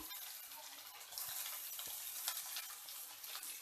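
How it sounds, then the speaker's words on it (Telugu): Cut okra pieces hit a pan of frying onions with a steady, crackling sizzle, quiet and close, building slightly after the first second with small bursts of spitting oil. "కట్ చేసుకున్న బెండకాయ ముక్కలన్నీ దీంట్లో వేసేసుకోండి"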